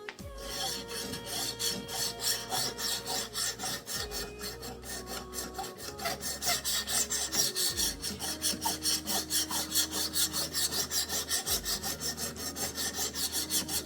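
Steel knife blade drawn repeatedly across a wet 200 grit whetstone, a steady fast rhythm of close, loud rasping strokes running throughout with no talking.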